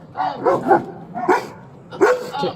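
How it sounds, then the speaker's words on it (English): A big dog barks from inside a car during a police stop, loud close barks in three clustered bursts with short gaps, mixed with whiny yips. "Oh, it's a big dog."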